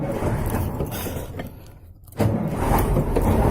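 A KAMAZ truck engine cranks and catches, a loud, steady mechanical roar with a brief dip before it surges back up to a strong, continuous run close by.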